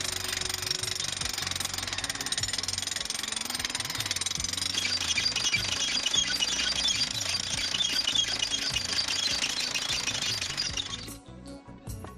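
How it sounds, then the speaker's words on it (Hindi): Stone-cutting machines break rocks on the Kedarnath mountain footpath in a loud, continuous jackhammer-like rattle with a steady engine drone underneath, running for about eleven seconds before abruptly dropping off. "आजकल रात भर पत्थर काटने वाली मशीनों का शोर सुनाई दे रहा है"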